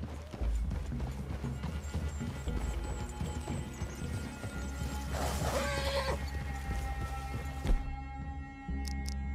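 Steady clip-clop of horse hooves on the ground in Red Dead Redemption 2, with a brief whinny midway and low background hum throughout.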